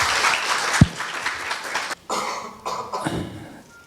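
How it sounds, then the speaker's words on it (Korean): Audience applause greets a professor stepping up to speak at a Korean university lecture, a dense wash of clapping with a sharp cough partway through, gradually thinning out. "여러분 뜨거운 박수로 환영해 주시기 바랍니다."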